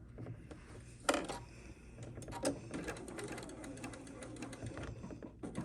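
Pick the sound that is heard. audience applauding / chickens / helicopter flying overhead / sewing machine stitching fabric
sewing machine stitching fabric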